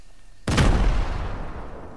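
Grenade blast in a video game: a single sudden, loud boom with a rumbling tail that fades slowly over the next second, with no talking.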